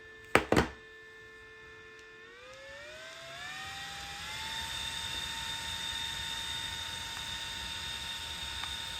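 An Aecooly PM02 portable handheld misting fan spins up to setting P5 after a couple of button clicks, its motor whine rising in pitch and then holding as a steady close whir with airy rushing noise.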